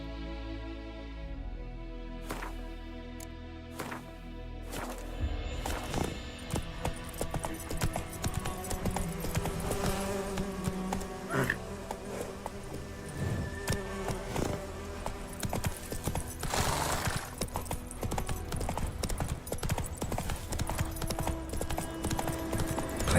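Roach, a horse in The Witcher 3, clip-clops along in a steady run of hoofbeats alongside in-game music, with a brief pause near the start before the gait resumes.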